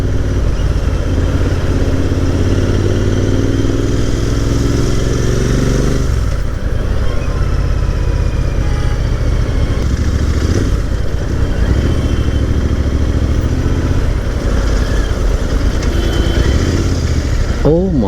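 Dense traffic jam noise with motorcycle engines idling and revving nearby, cars rumbling around, steady and loud throughout, with a voice speaking now and then.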